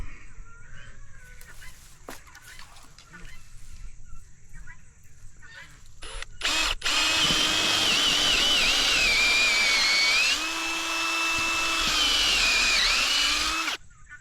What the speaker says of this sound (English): I drill a 3/8 inch hole here